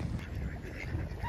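Ducks quack in a dense, continuous chorus close by, steady in loudness throughout with no talking, at a wet outdoor classic car meet in Wales.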